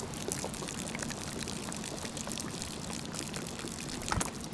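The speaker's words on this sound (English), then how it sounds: "you've got a canteen full of water. You press the scroll wheel and you empty it." Water pouring out of a canteen in the video game DayZ, a steady gurgling, splashing stream that runs continuously for several seconds at moderate loudness.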